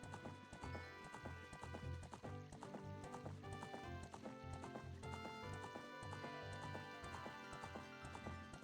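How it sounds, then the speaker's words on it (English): Horse hooves clip-clop steadily in Ocarina of Time, a loud, even trotting beat heard over layered game music with no talking. "Named your horse Cash Money?"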